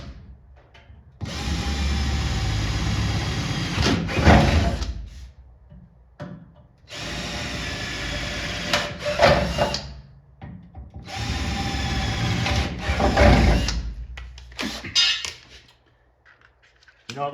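A power drill with a 1/4 inch bit bores in three separate bursts during assembly work on a 1959 Chevy Impala convertible, each a loud, close whine that ends in a heavier grinding push before stopping, with short quiet gaps between them.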